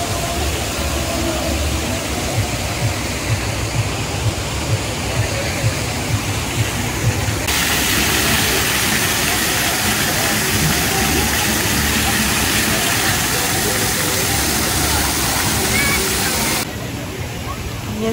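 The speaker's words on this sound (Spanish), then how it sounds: "les voy a enseñar un poquito más del río." A river rushes in a steady, loud broadband roar that continues throughout, with little change apart from a brief lift in intensity partway through.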